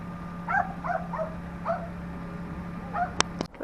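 A dog at a marina on the Itchen River in the Solent gives about five short, yelping barks spread over a few seconds, fairly close, over steady background hum and no talk.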